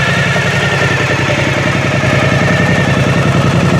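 A Suzuki DL1000 V-Strom motorcycle fitted with a Holeshot aftermarket exhaust idles close by, a loud, steady throbbing rumble with even pulsing beats and no talk.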